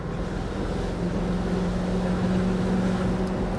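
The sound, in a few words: BMW V8 engine running while driving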